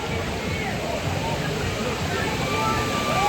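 A waterfall at Volcano Bay water park in Orlando gives a steady, broad rush of falling water close by, with background chatter from park visitors mixed in.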